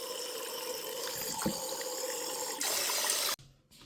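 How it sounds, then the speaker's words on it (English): Warm water runs over a washing machine drain pump during cleaning, giving a steady close splashing rush that grows louder near the end and then cuts off abruptly. "Now I'm using warm water."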